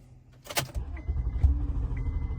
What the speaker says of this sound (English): It'll crank, but it will not start